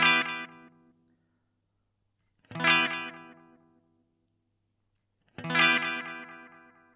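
An electric guitar plays through a Mad Professor Dual Blue Delay pedal set to more repeats: three separate strummed chords, each followed by fading echoes of itself, with silence in between.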